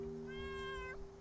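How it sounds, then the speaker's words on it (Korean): A single drawn-out cat meow from the horror video game Layers of Fear, Inheritance DLC, heard alone over a steady low ambient hum, rising slightly and then dropping off at the end. "오, 고양이다."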